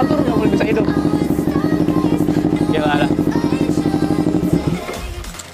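A custom Kawasaki Ninja EX 250L fitted with ZX-style parts idles loud and close, its engine firing in a fast even pulse, then winds down. Someone speaks briefly over it.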